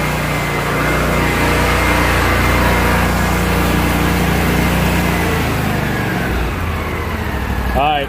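A cold lawn mower engine is stuck at full throttle and runs loud and steady at high revs for several seconds. Near the end the pitch sags and the revs drop briefly.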